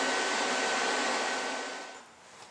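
An Everlast PowerTig 185 AC/DC TIG inverter welder arc gives a steady broadband hiss that holds evenly, then fades out over the last half second.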